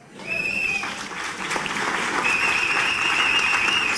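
A rally audience breaks into steady applause, rising from a quieter start to a dense, sustained clapping, with a few whistles cutting through.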